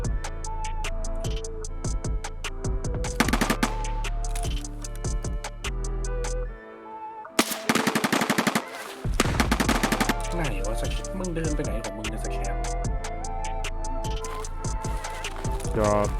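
Gunfire in the video game Escape From Tarkov, with bursts of rapid automatic shots alongside single sharp reports, loud and near, stopping in a brief lull midway and then resuming over ongoing game sound.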